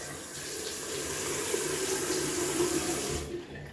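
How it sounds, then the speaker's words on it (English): Cold tap water runs steadily into a sink as a face is wetted before a wet shave. The splashing flow is close, continuous and loud, then cuts off near the end; no one speaks. "Adding some cold water to the face."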